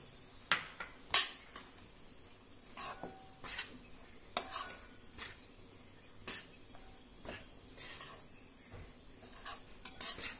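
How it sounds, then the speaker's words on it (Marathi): Ragi flour and semolina dry-roasted in a pan over low heat, a spatula scraping and tapping in irregular strokes, with occasional sharp clinks against the pan over a quiet background. "आता मंद गॅसवर हे पीठ भाजल्याचा खमंग वास येईपर्यंत आपल्याला हे परतायचं आहे."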